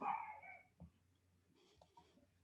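A dog lets out one loud bark right at the start, indoors near a front door, followed by a few faint, scattered sounds and quiet movement.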